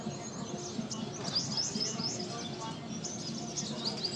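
Racing pigeons in a loft, entered in a club training race, give soft continuous cooing and chirping calls at close range, with faint rustling and a low background hum throughout.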